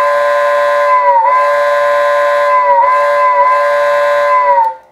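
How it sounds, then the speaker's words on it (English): A steam whistle effect from an old 1970s MPC Lionel model steam train, a loud, steady, reedy tone held for nearly five seconds with slight pitch dips before it cuts off. "your old MPC model trains, especially steamers, would sound like this."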